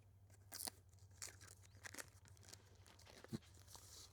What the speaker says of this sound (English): Let's take off the nice plastic film that they have here.